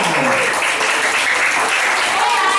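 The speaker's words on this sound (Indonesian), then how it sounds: "Yuk, tepuk tangan semuanya." Children clapping together at a church kids' program, a continuous dense patter of applause mixed with excited young voices and shouts.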